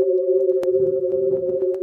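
A steady, pure electronic hum of tones converted from the colours of The Scream painting, holding one mid-low pitch throughout with a few faint clicks, alone with no speech.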